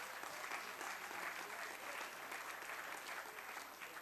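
Members at a joint sitting of parliament applaud in a steady, even wash of many hands that carries on for several seconds, heard from a distance and fairly faint.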